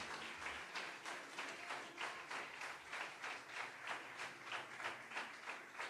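A church congregation claps loudly in praise of Jesus during a worship service, with steady, rhythmic applause pulsing evenly throughout and no voices on top.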